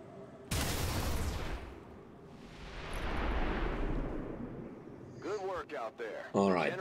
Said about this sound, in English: Massive explosion worked like a charm.